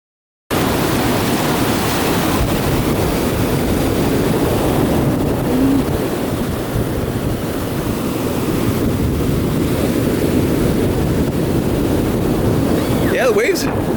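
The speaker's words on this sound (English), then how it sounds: "waves are pretty good size" Ocean surf at San Juan beach on Luzon in the Philippines rolls in as a constant broad roar, heavily buffeted by wind noise on the microphone throughout.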